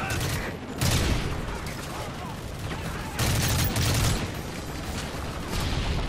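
Gunfire from a weapon in Call of Duty: Modern Warfare 3 sounds in loud, rapid bursts separated by short pauses, with a person talking over the shots.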